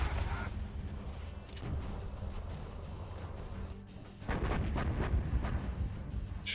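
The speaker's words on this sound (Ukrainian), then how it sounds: "Знову гарматний постріл." Cannon fire in a 2v2 match of the strategy game C&C Generals Zero Hour, heavy booming blasts over a dense, continuous battle rumble, with a louder burst of explosions toward the end.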